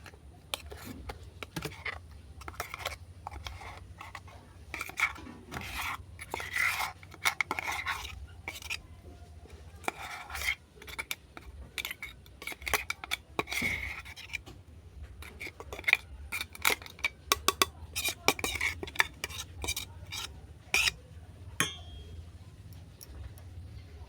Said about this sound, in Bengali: এটা একটা পাত্রে ঢেলে নিচ্ছি